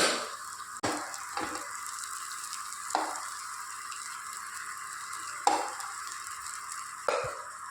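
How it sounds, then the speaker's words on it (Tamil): Rice and two eggs stirred in a pan for a barnyard-millet ven pongal, a steady faint sizzle broken by about five sharp scrape-and-clatter bursts of the spatula, alone with no talk. "நல்லா கிளறிக்கலாங்க"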